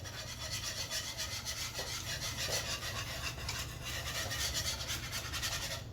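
A whisk scrapes steadily through gravy as xanthan gum is mixed in, giving a continuous close rasping swish that carries on without pause.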